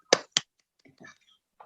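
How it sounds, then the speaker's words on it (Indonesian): Two sharp hand claps in quick succession, close and clear, for a student in a small school group discussion, followed by faint scattered sounds. "Tepuk tangan buat Indah."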